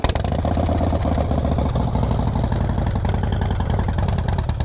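Up close, a 2017 Harley-Davidson Softail Slim S with a stage 1 kit and Vance & Hines Shortshots pipes idles in neutral, a loud, steady, loping thump with a mechanical clatter and no voices.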